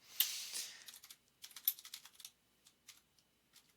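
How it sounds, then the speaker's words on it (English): Computer keyboard keys tapped while entering a SQL query in MySQL Server, a quiet close burst of quick clicks that thins into scattered single taps. "I was going to type more."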